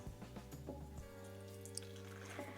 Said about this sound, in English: We'll take our beer and pour in 1 cup.